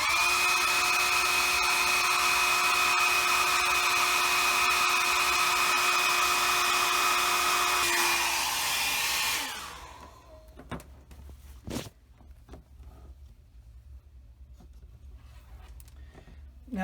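A heat tool blows steady, loud hot air to shrink heat shrink tubing on model starship wiring, a constant whirring hiss that runs for about eight seconds before switching off and spinning down, leaving faint bench noises.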